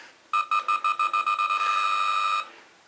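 Electronic beeping from a G.I. Joe: The Rise of Cobra 3.75-inch Night Raven toy vehicle: about ten rapid, loud tonal pulses that merge into a steady buzzing tone lasting roughly a second before cutting off, with no talking.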